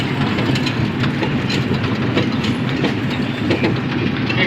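A moving passenger train gives a loud, steady rumble with rhythmic clickety-clack from the wheels on the rails, heard from inside the carriage with no talking.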